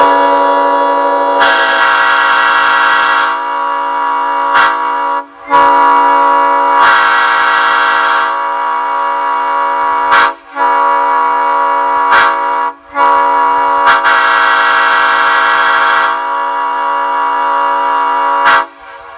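Loud, sustained multi-tone train horn blasts at a horn festival, sounding in several long honks of a few seconds each separated by brief gaps, close and powerful with no talking.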